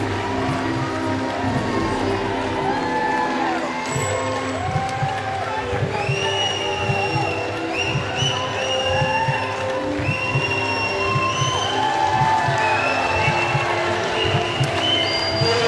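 A large stadium crowd at a Commonwealth Games netball medal ceremony in Delhi cheers and whistles continuously, with a dense roar of voices, scattered sharp whistles and steady rhythmic clapping.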